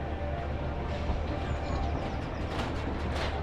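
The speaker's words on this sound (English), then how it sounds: "Jump on the train, just take 10-15 minutes out of your day and travel around the circuit here." Pleasure Beach Express miniature train ride at Blackpool Pleasure Beach, with a steady low rumble of running on the circuit and faint outdoor ambience continuing throughout at an even level.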